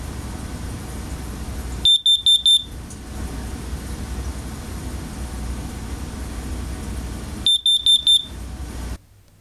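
A smoke alarm sounds two bursts of rapid, piercing beeps, several seconds apart, over steady background noise.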